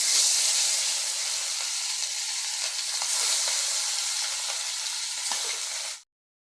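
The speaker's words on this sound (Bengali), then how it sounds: "তেল গরম হয়ে গেছে এবার আমি মাছগুলো ছেড়ে দিচ্ছি" Bata fish dropped into hot oil in a home kitchen pan, giving a loud, steady broadband sizzle with spitting crackles that holds for about six seconds before cutting off abruptly.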